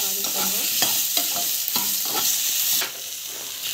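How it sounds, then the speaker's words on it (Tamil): Chana dal stirred and fried in a pan, with a steady close sizzle and repeated scraping stirs of the spoon, the sizzle easing slightly near the end. "கடலை பருப்பு நல்லா வதக்கிக்கோங்க."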